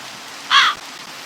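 A single crow caw from the Minecraft Create modpack, a clear harsh call lasting about a quarter second, fairly close and standing alone over a faint steady background hiss.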